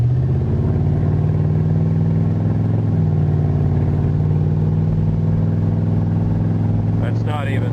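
A Ford Crown Victoria pulled out of the weeds runs with a coolant leak, its engine droning loud and steady with a slight revving rise, while someone talks throughout over it.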